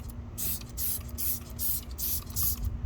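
Turtle Wax Hybrid Solutions Pro Rapid Decon iron remover sprayed from a foaming nozzle onto a car: six quick, close hissing bursts in a steady rhythm, fairly soft.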